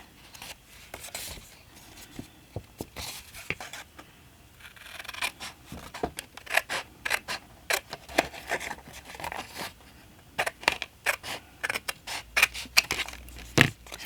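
Scissors snip through cardstock while paper doll clips are made, producing quick, close crisp cuts in irregular bursts with paper rustling in between, growing busier toward the end.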